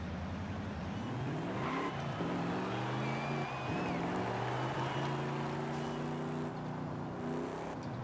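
Truck engine from the racing game Forza Horizon 5 during a drift, a steady droning rev with shifting pitch that swells and dips, with tire squeal and no talk.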